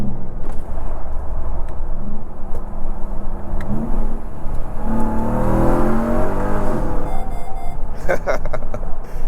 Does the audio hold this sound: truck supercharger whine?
yes